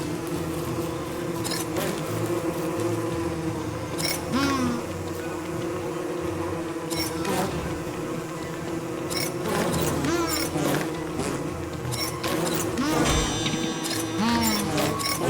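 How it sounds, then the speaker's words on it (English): Bees from hives in a video game hum in a continuous droning buzz, with occasional wing-whine sweeps passing by amid soft clicks and game sounds. "Okay, time to break open some hives."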